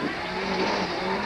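A Ford Focus rally car races along a stage of the 1999 Rally de Portugal, its engine held at a loud, sustained high-revving pitch, close and continuous.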